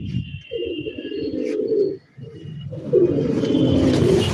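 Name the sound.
domestic pigeons cooing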